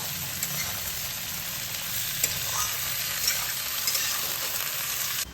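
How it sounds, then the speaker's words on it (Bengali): Bitter gourd and potato pieces frying with onion in a pan give a steady, close, even sizzle throughout, with a few faint stirring clicks and scrapes. "আমি পেঁয়াজের সঙ্গে ভেজে নেব।"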